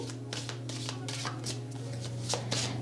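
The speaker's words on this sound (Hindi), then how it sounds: "तो आपके कार्ड्स को शफल करते हैं।" Tarot cards shuffled by hand give quick papery riffling bursts in an irregular rhythm, close and soft over a low steady hum.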